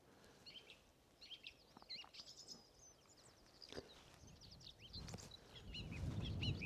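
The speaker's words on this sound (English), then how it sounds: "Probably just the white throat." A whitethroat sings on a morning among gorse, its faint scratchy warbling phrases coming from some distance over low background noise that swells toward the end.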